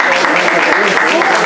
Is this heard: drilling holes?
no